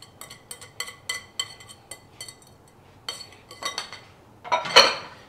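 A wooden spoon stirs scone dough in a bowl, giving a run of quick, light knocks and clinks against the bowl in an uneven rhythm, close and alone, building to a louder scrape near the end.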